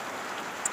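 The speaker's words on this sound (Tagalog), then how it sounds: "maliligo tayo sa ulan kasi tanghali na, hindi pa tayo nakakaligo" Steady midday rain falling outdoors, a continuous dense hiss of drops with a brief sharper spatter near the end, no talking.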